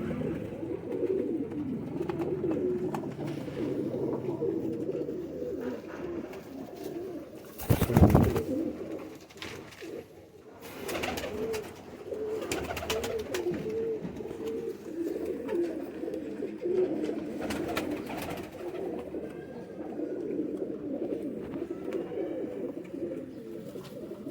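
Pigeons kept for high flying coo softly and continuously at close range, with a brief burst of wing flapping or scuffling partway through, over a steady background murmur.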